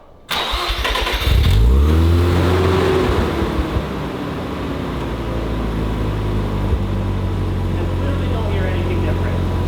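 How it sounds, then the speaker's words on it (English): An original Mazda RX-7's rotary engine cranks and fires up, its exhaust revving briefly before settling into a loud, deep, steady idle. "I just want to get that little bit of rotary sound, you know?"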